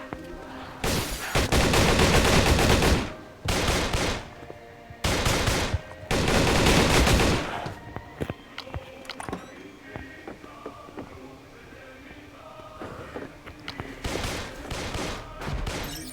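Long bursts of rapid automatic gunfire in the video game Darkest Days, loud and close, interrupted by pauses and scattered single shots, with a final burst near the end.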